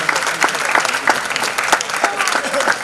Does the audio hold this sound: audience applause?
yes